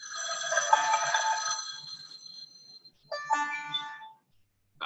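An office phone system rings with bright electronic trills, one long burst then a shorter second after a brief gap, fairly close and without talk.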